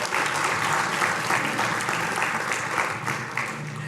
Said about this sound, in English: Why don't you give yourselves a round of applause for that support?